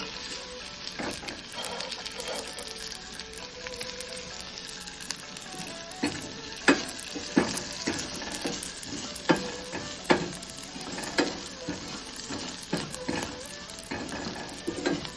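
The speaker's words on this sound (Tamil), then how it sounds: "இந்த முந்திரி பருப்பையும் நல்லா வறுத்துக்கணும்" Cashews roasting in a pan crackle and sizzle throughout, with repeated sharp clicks and scrapes of a stirring utensil against the metal at an irregular rhythm.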